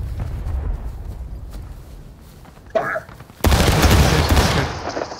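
Civil War artillery cannon fired in War of Rights, a sudden loud blast near the three-and-a-half-second mark with a rolling roar afterward, preceded by quieter ambience and a short burst of sound.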